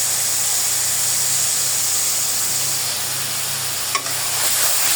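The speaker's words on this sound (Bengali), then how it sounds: "মশলাটা ভালোভাবে কষিয়ে নিচ্ছি।" A spice paste of ginger, garlic, cumin, turmeric, chili powder and salt fries while being stirred, giving a loud, steady hiss and sizzle with one brief clink near the end.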